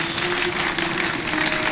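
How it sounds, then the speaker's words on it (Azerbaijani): Studio audience applauding the four guests on a television entertainment show, a dense steady wash of many hands clapping at close range for a short burst. "Alqışlayaq hər dörd qonağımızı bir daha."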